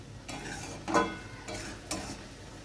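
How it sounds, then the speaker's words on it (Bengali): Sugar stirred into carrot halwa with a spatula in a pan: a few scraping, shuffling strokes with soft sizzle underneath, two of them noticeably sharper, close and fairly quiet. "চিনিটা দিয়ে আবারও ভালোভাবে নেড়ে নেব খুন্তি দিয়ে, চিনিটা যাতে মেল্ট হয়ে যায়।"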